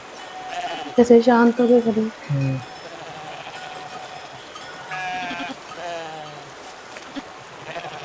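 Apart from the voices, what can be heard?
sheep bleating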